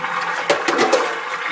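Wash water from a VegiWash produce rinse is dumped out of a container at home, a short close splashing pour with a few gushing surges over about a second and a half.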